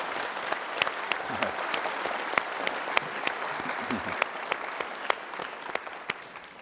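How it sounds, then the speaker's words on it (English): A crowd at a Medal of Honor forum claps steadily for the Royal High School Junior ROTC, with dense, sustained applause and occasional sharper individual claps and faint voices underneath. "one more round of applause for the Royal High School Junior ROTC"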